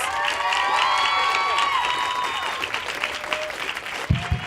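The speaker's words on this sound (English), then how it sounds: "Big round of applause." An audience at an Apple Store event applauds and cheers to welcome guests onstage, a dense, steady wash of clapping that thins toward the end, with a few whoops and shouts rising above it.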